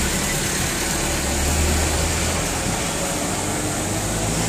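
A buyer's car idles close by at a roadside meetup, giving a steady, even engine hum with a low rumble and broadband hiss that holds constant throughout.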